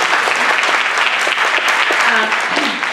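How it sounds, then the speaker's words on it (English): Loud, dense applause from a panel-discussion audience at Malcolm X College, a sustained roar of many hands clapping with scattered voices and cheers mixed in. "I think you should give yourselves a round of applause just for showing up today."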